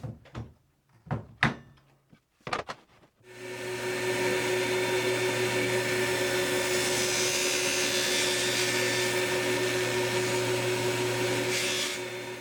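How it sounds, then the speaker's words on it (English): A few sharp knocks and bumps come first, then a power saw starts and runs in a loud, steady whine as it cuts through a scrap of plywood for a 25-degree angle guide. "I'm using that to cut a scrap of plywood that will once again act as a guide"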